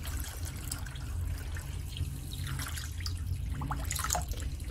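Water poured into a pot in a kitchen, a litre measured out for a Turkish şam tatlısı syrup with sugar; a steady close splashing and trickling runs throughout with no talk.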